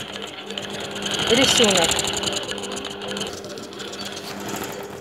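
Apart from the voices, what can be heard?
long arm quilting machine stitching a design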